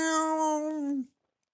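One sustained, steady meow, voiced by a man imitating a cat, held close and clear for about a second before stopping abruptly.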